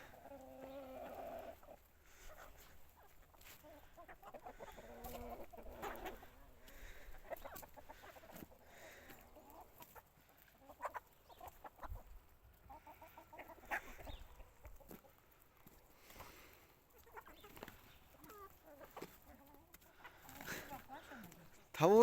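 Young backyard chickens cluck and squabble in scattered bursts, close by, while someone talks over them and briefly laughs.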